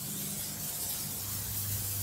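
Pam cooking spray hisses steadily from an aerosol can inside the steel cook chamber of a Yoder 1500 smoker, one continuous close spray lasting the whole moment with no talk.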